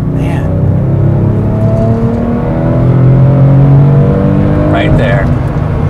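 Porsche 996 GT3 engine pulls hard under acceleration, a loud, close, rising mechanical howl that sharpens as it comes on cam, with people talking over it inside the car.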